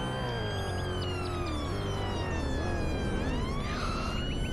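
A police car siren in a roleplay video game wails in rising and falling sweeps, loud and continuous, with a steady engine hum beneath it.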